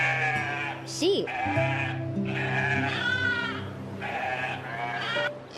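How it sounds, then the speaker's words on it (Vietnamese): Sheep bleating in a children's animal-sound lesson, a few wavering calls heard over a steady music bed, with brief spoken words in between. "Sheep."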